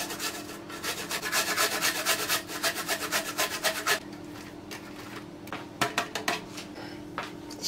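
Garlic cloves grated on the fine side of a metal grater make quick rhythmic rasping strokes for about four seconds, then a few scattered scrapes and taps follow close up with no talking.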